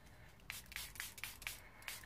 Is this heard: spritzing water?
yes